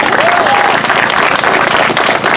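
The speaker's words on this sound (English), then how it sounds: "So a round of applause for our brother Nathaniel." Loud, dense applause bursts from a crowd at an outdoor justice memorial gathering in Greenfield, California, steady clapping with a few whistles and cheers close by.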